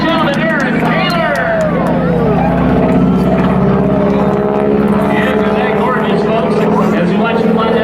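A big 1,340-cubic-inch, 600-horsepower radial engine turning a 108-inch Hamilton Standard propeller drones loudly and steadily as the plane flies at an airshow in Laredo, Texas, with a public-address voice talking over the roar.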